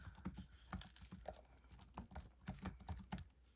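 Steady, rapid typing on a compact detachable keyboard of a Lenovo Duet Chromebook, close up, with crisp clicky keystrokes in irregular bursts.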